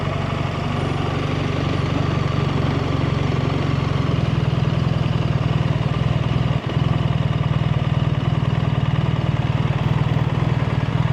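A brand-new BMW R1300RT motorcycle engine running at a steady idle, a constant low rumbling drone heard close up with no other sounds over it.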